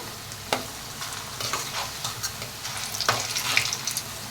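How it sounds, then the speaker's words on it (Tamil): Spinach and gram-flour fritters frying in hot oil, a steady close sizzle and bubbling hiss with occasional clicks and taps of a utensil turning them, and no talking. "அதனால் 2 பக்கம் ஆயிலில் நல்லா ஃப்ரை பண்ணி எடுத்துக்கலாம்"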